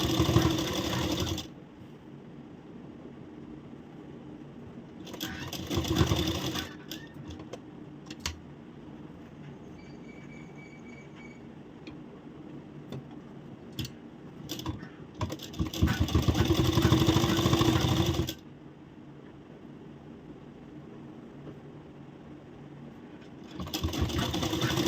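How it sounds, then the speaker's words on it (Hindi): A sewing machine stitches around a blouse neckline in several loud, steady whirring runs close by, separated by quieter stretches of handling and faint clicks. "और अभी नेक पे भी सिलाई लगाएंगे।"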